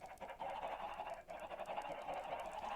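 Chickens in the Minecraft Sky Factory 5 modpack make a dense, continuous run of clucking and honking fowl calls, loud and close, with a brief dip partway through.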